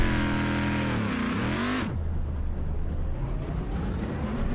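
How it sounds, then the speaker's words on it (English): A GT race car in a sim racing game revs hard and pulls away, engine note rising then cutting off into a steady lower drone of running cars and road noise, with no talking. "He had revved it up something good and just drove away with a whimper, unfortunately."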